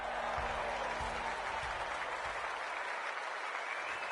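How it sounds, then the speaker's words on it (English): A crowd at a reserves-division Australian football match against Williamstown claps and cheers steadily as the captains meet, a continuous wash of applause with a few dull low thumps early on. "The crowd already making plenty of noise as the captains come together."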